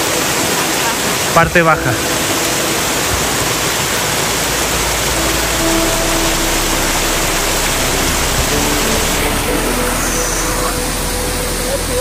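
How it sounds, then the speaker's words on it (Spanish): Waterfall in Ushuaia, Tierra del Fuego, a steady broadband roar of falling water that fills the whole clip, with a brief voice speaking near the start. "Parte segunda de la cascada."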